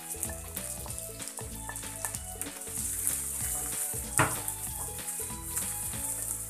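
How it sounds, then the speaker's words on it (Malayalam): Sweet corn is stirred in melted butter in a pan, giving a steady, close sizzle with soft scraping from stirring throughout and no talking. "മെൽറ്റായി വന്ന ബട്ടറിലോട്ട് നമ്മുടെ സ്വീറ്റ് കോണ് ഇട്ടെടുത്തിട്ട് ജസ്റ്റ് ചെറിയ ചൂടാവാൻ ജസ്റ്റ് ഒന്നും ഇളക്കിയിട്ട് എടുക്കുക."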